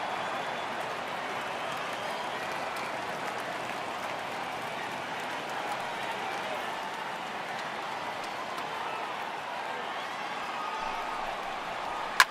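Steady stadium crowd noise from a baseball video game, Phillies versus Diamondbacks, with continuous broad cheering and applause at even level throughout, ending in a brief sharp click.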